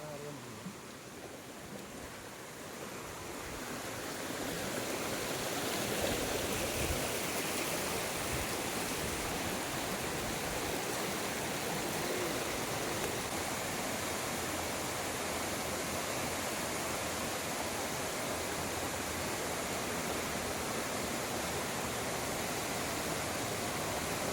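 A remote waterfall pours with a broad, steady roar of rushing water. It starts softer, then swells after a few seconds into a loud, unbroken wash that continues to the end.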